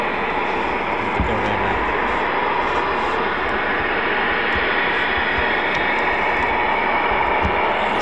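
An RAF Eurofighter Typhoon FGR4 jet roars steadily throughout at the QRA station at RAF Coningsby, a loud, continuous broadband engine noise with no break.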